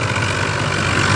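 An HMT tractor engine runs with a Punni 7-foot super seeder attached, a loud, close, continuous low diesel rumble with no talk over it.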